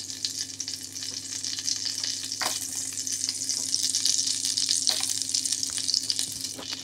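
Butter sizzles in a frying pan with a steady, bright hiss, broken now and then by sharper crackles and spits. The sound stays close and moderately loud, with no voices.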